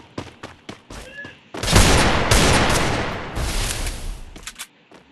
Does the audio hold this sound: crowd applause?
no